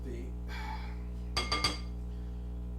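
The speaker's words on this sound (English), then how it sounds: "I'm gonna toss it a little bit to kind of mix it up" Korean-style potato salad is tossed and mixed in a bowl. Three quick, bright clinks of a utensil against the bowl stand out over a low steady hum.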